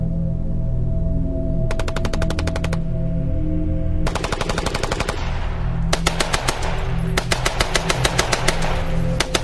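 Machine gun fire from a First World War battle near Loos, heard as several loud rapid bursts separated by short gaps over a steady background, with no voices.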